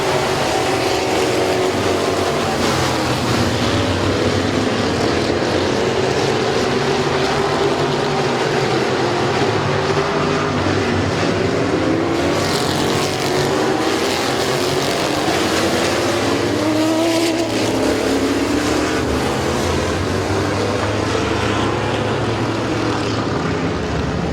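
Race cars at Midvale Speedway roar past in a continuous loud drone of engines, pitch rising and falling as the pack laps the track.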